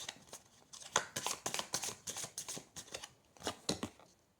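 Tarot cards shuffled and drawn by hand: soft, close riffling and slapping bursts in a quick, uneven rhythm, fairly faint, with no talking.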